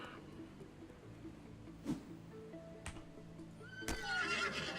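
In the video game Legends of Aria, a white-maned horse gives a few short neighs and a closing whinny over soft hoof clip-clops and quiet ambient tones, with no voices.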